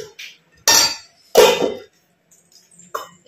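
Dishes and pans clinking in a home kitchen sink as they are scrubbed, three separate bursts of clattering with short quiet gaps between them, close and fairly loud.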